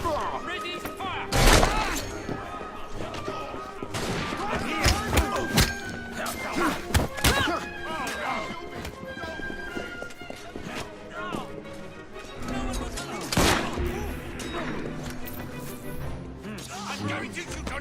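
A gunfire volley in the video game Assassin's Creed Syndicate: scattered heavy thumps and sharp cracks spread across the scene, mixed with clattering effects, while voices shout in the background.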